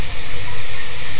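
Steam sprays with a loud, steady, broad hiss during an oil spill cleanup, heard close and unbroken for about a second with no voices over it.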